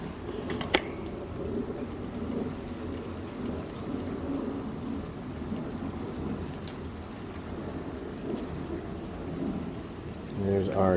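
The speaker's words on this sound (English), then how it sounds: "Yeah, it's raining pretty good." Steady heavy rain pours down in a constant hiss, with a sharp crack early on and a faint voice near the end.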